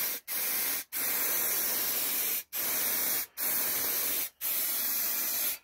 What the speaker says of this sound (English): Blimey, you've seen spraying before, look.